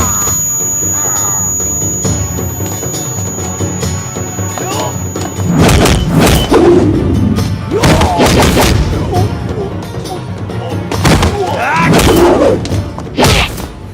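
Punches and heavy thuds land in a fight scene from the 2022 Bhojpuri action film King, shot in London, arriving as loud repeated impacts in bursts over a dense music-and-effects soundtrack.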